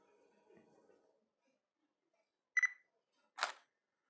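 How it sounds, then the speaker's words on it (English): A camera shutter fires with an off-camera flash in TTL mode, giving two short, sharp clicks about a second apart in a quiet room after faint low rustling. "All I have to do is simply press my shutter button to take the shot."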